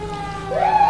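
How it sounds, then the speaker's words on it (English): A PA-300 emergency vehicle siren on an FDNY fire apparatus in Manhattan starts up, its tone sweeping upward and growing louder in a short, close burst. "here's the PA-300 siren I was telling you guys about"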